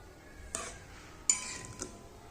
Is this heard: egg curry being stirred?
yes